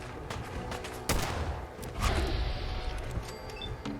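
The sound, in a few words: gunfire in the video game Fallout 4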